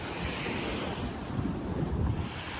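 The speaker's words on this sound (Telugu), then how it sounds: "చూడండి, అలా సౌండ్ క్లియర్గా వినొచ్చు." Sea waves wash steadily at the Salmiya seaside in Kuwait, a continuous close rushing surf mixed with gusty wind noise on the microphone. No voices.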